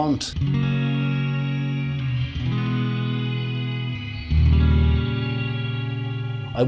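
Electric guitar played through a Joyo Atmosphere shimmer reverb pedal, sustained chords ringing with a lush, layered shimmer tail and some distortion, shifting to a louder, thicker chord near the end.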